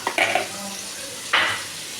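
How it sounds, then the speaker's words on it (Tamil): Mustard seeds and urad dal crackle in hot oil in a pan, with sharp spitting pops at the start and a brighter sizzling burst about a second later, all close and without talk. "கடுகு நல்லா பொரியுது"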